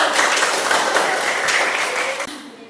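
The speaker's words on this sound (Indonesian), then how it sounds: "kasih aplaus dulu" A classroom of students applauds during a lesson: dense, steady clapping from a group that holds evenly, then thins and fades out toward the end.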